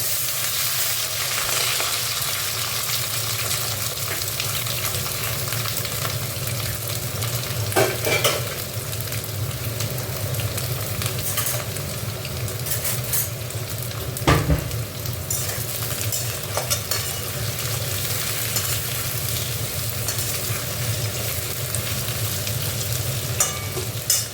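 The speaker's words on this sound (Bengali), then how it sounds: "আলুটা একটু ভালো করে ভেজে, দেখো পোস্তর আলু ভাজা হয়ে গেছে" Potatoes frying in oil in a wok (kadai) for a posto dish, making a continuous close sizzle with frequent stirring scrapes over a long stretch and no voices.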